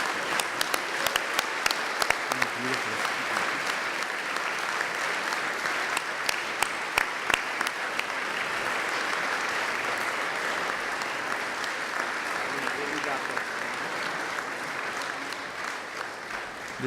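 Guests of honor rise and applaud at a 2018 journal dinner, a sustained, even roar of clapping from a large room, with a few sharper individual claps standing out early on.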